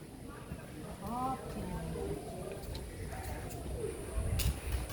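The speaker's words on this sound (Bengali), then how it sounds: "দেখুন এইখানে বেশ কিছু পায়রা রয়েছে এবং পায়রাগুলিকে খাবার দেওয়া হয়েছে।" Pigeons coo at the old Baro Mandir Ghat in Panihati, soft repeated cooing calls close by over a faint outdoor background, with a few light ticks and a brief scuffle near the end.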